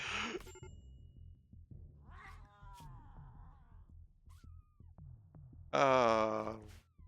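Cats in the video game Rimworld let out short meows over a rhythmic game soundtrack, with one louder, longer yowl near the end and no speech.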